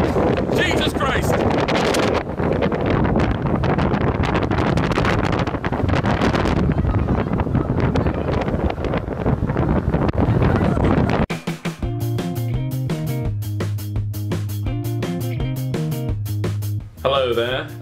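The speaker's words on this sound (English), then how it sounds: "I'm gonna hold the camera with 2 hands because it's that windy up here" Strong wind on a hilltop batters a handheld camera microphone in loud, roaring gusts, and the buffeting stops abruptly partway through, giving way to music.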